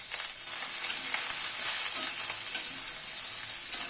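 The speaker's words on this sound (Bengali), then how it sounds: "নুন হলুদ দিয়ে সবজিটাকে ভালো করে ভেজে নিলাম।" Eggplant, radish and potato pieces fry in a pan with salt and turmeric, giving a steady, close, bright sizzle with faint stirring clicks throughout and no talking.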